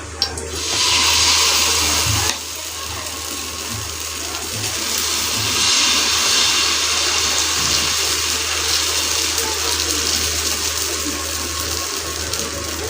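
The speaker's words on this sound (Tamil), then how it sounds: "தோசைக்கல் வச்சு தோசைக்கல் காஞ்சிச்சு, எண்ணெய் ஊற்றிட்டேன். இப்போ நம்ம மாவு ஊற்ற போயிடும்." Millet dosa batter, made with kuthiraivali rice and black chickpeas, is poured onto a hot, oiled griddle. It gives a loud, steady sizzling hiss that swells and then holds.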